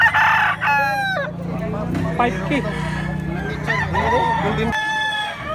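A rooster crows loudly a couple of times at close range, its harsh, drawn-out calls overlapping people chatting nearby.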